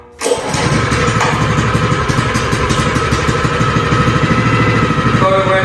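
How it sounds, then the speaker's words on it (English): Honda GX160 engine on an HZR70 plate compactor catching almost instantly, then settling into a loud, steady, close-up rapid putter with mechanical clatter for the rest of the clip, with no talking. "And now we'll start the machine. So choke off, gas to the right, engine's on."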